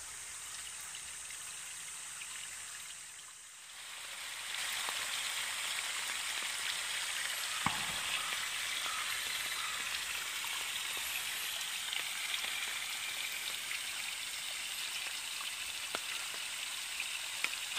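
Rainwater pours steadily into Misogi pond after days of rain, a constant hissing rush of flowing water with no voices, briefly dipping before resuming at an even level.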